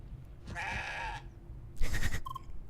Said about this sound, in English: Stern goat noises.